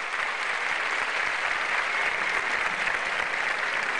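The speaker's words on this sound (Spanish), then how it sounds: "Por favor, recíbanla con un caluroso aplauso," Concert audience breaking into warm, steady applause as a singer is welcomed on stage, a dense unbroken wash of clapping from a large crowd, heard alone.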